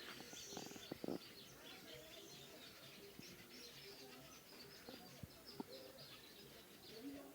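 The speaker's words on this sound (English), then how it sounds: "Beautiful sound of the birds." Birds chirp and twitter outdoors while a dove coos now and then, against a steady, busy background of natural ambience.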